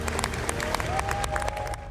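Delegates from many countries applaud and cheer at a UNESCO World Heritage inscription session. The clapping is moderate and steady, with a sustained musical tone running underneath, and it tapers slightly at the end.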